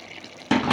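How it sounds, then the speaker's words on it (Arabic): Water is poured into chicken shawarma to make its sauce, arriving as a sudden close splashing gush after a quieter stretch, with no talking. "الشاورما بتاعتي هزودها بس سنة مية عشان الصوص بتاعها، عشان اعمل لها صوص"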